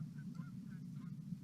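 Short-eared owl calling in open grassland or field: faint, nasal, barking notes repeated about four times in quick succession over a steady low hum, with no voices.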